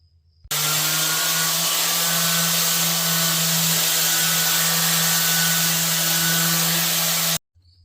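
Steady, loud grinding whir of a power sander with 80 grit running continuously on a rusty cast iron skillet, with a strong low hum and broad gritty hiss, no talking.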